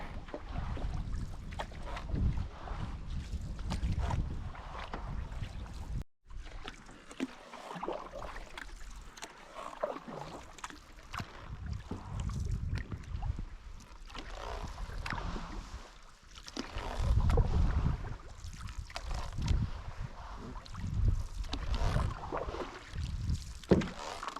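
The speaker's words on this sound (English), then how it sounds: "Now we got the wind a bit pushing us" Wind gusts across the microphone while a canoe crosses a lake, producing a constant rough rumble and buffeting with faint paddle and water sounds underneath and no talk.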